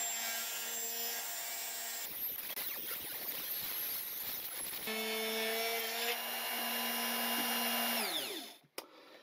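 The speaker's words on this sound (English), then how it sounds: "So now I will drill the hole and see if it's going through." A hole is drilled into a small broken part from a Canon EF 24-70mm f/2.8L II USM zoom lens, the close, whining rotary tool running steadily with a burst of grinding bite in the middle before spinning down to a stop.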